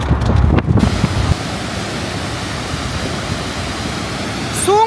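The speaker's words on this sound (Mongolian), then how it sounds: "Санвапта Falls гэнэ." Sunwapta Falls waterfall roars as a steady, close, loud wash of broadband noise, with a rougher gust-like burst at the start and no talk over it.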